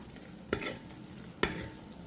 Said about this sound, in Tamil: அடுத்து அஞ்சு முழு பச்சை மிளகாவை சேர்த்து கிண்டி விடுங்க